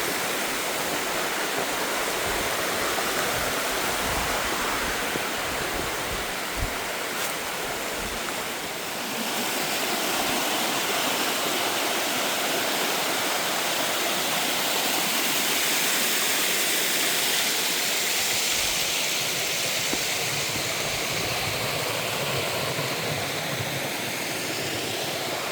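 A creek rushes through a gully choked with Hurricane Helene debris in western North Carolina, a steady, loud broadband roar of flowing water heard up close and continuing throughout.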